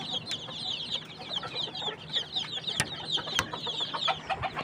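Desi chickens on a poultry farm cluck busily and continuously, many birds overlapping nearby. A few sharp clicks and knocks sound among the chatter.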